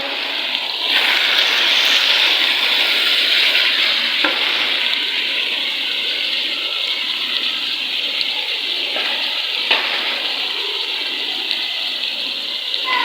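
Mutton mince frying in a pan with ginger garlic paste and dry coriander powder, giving a loud, continuous hissing sizzle with occasional stirring scrapes throughout.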